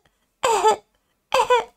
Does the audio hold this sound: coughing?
yes